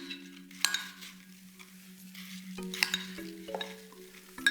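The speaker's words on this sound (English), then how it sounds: "Add a couple of more pieces. Stir and spoon." Spoon stirring apple pieces into melted butter in a dish, soft scraping strokes with a few light clinks against the container, quiet and close, under a steady background hum.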